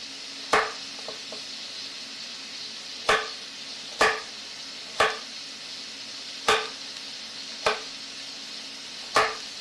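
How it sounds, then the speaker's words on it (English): A knife cuts carrots into coins for chicken and dumplings, eight sharp evenly spaced chops against a board, close and clear, with a faint sizzle underneath. "I'm just going down and cutting them perpendicular."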